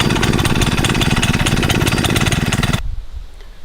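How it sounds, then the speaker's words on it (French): A Honda gasoline engine on a portable capstan winch runs with a loud, rapid, steady pulsing chatter for nearly three seconds, then cuts off abruptly, leaving a faint fading tail. "Donc on va démarrer notre moteur."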